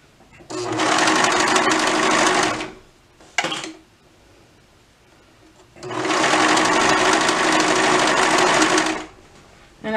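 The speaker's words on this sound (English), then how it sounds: "Even though I'm using a serger, you can absolutely do this with your regular sewing machine." A serger overlocker stitches a dress seam in two long sustained whirring runs of rapid motor buzz, close and loud, with a short burst between them.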